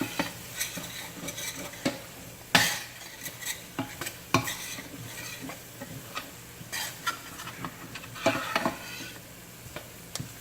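A heavy spoon stirs homemade gravy in a pot, scraping and clinking against the metal in irregular, close strokes over a soft sizzle, with occasional louder knocks.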